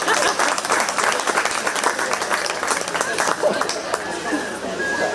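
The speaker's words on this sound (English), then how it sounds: "Let's give them a big round of applause." Applause from the crowd at a 4-H pie and muffin auction at the Shelby County Fair, a steady dense clapping with chatter mixed in that keeps up for the full few seconds.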